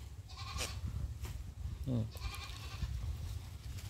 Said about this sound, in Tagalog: yung mga alagang kambing ng aking mga pamangkin